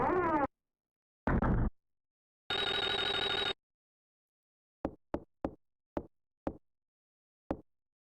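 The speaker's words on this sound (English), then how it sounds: "There's a phone call right there." A telephone rings in the video game Clock Tower Rewind: three separate ring bursts, the third longer, followed by a string of sharp knock-like clicks.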